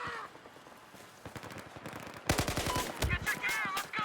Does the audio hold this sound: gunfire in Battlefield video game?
yes